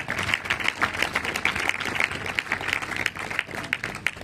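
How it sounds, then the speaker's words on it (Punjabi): A church congregation claps hands together in a dense, steady patter of applause held for several seconds, with a few voices faintly mixed in. "ਪ੍ਰਭੂ ਯਿਸੂ ਮਸੀਹ ਦਾ ਹੱਥਾਂ ਦਾ ਤਾੜੀ ਮਾਰ ਕੇ ਸਵਾਗਤ ਕਰਾਂਗੇ"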